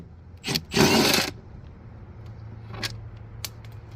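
A power tool whirs in short bursts while removing bolts from a Briggs & Stratton 675 Series 190cc engine on a Troy-Bilt mower, one long burst followed by brief clicks and metallic taps, close and unaccompanied by talk.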